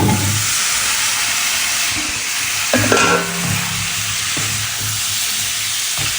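Papaya frying in a spice mix in a pan, a loud, continuous hiss and sizzle with occasional stirring scrapes and a brief clatter near the middle, no speech.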